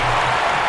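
Wrestling arena crowd in the WWE 2K video game, a steady, loud wash of cheering and applause that fills the whole brief moment without letting up.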